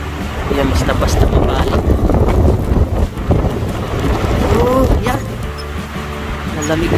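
Strong gusty wind during a spring snowstorm near a pine tree, loud roaring buffeting across the microphone throughout, with a person speaking over it partway through.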